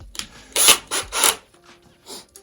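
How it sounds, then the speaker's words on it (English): A screw is driven straight into plywood backing without a pilot hole, giving a few rough, rasping grinding bursts close up, with short pauses and no talk. "I'm just going to tap straight in with a screw into the plywood"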